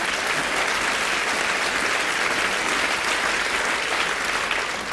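An audience at a cabaret show applauds with loud, continuous clapping that stays even and unbroken throughout.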